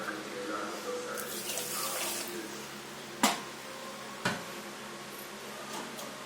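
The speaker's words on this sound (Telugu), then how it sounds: "దీనికి ఇంకో గ్లాస్ వాటర్ పోసుకోవాలి" Water poured from a glass onto 250 grams of sugar in a pan to make gulab jamun syrup: a steady splashing pour for a few seconds, then a quieter trickle, with two sharp clicks of utensils close by.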